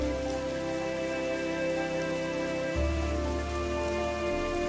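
Steady heavy rain in a Hindi cartoon story, a dense continuous hiss of downpour with a low sustained hum underneath and no voices.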